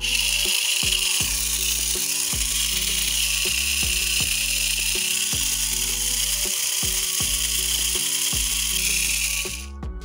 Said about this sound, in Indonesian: Untuk brand RZ, suara dari gearsetnya itu agak kasar